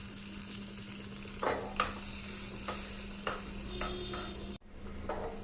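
Chopped almonds and cashews frying in melted butter for payasam, a soft steady sizzle with occasional spoon scrapes and taps against the pan, a low hum beneath and a brief dropout near the end, no voices.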